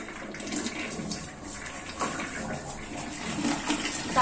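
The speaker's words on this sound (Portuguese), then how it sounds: "Aí dá a descarga." A household toilet flushes in a small bathroom where a blue cleaning tablet sits in the tank, giving a steady rush and gurgle of water that carries on for several seconds.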